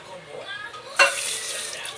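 Tap water splashes into a cooking pot being rinsed, a faint trickle that turns into a sudden louder gush partway through and keeps running, close and alone.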